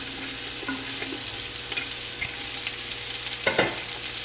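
Chopped onion sizzles in a pan over a medium flame, a steady bright hiss with occasional scraping stirs and light clatters, close and continuous, with no talking.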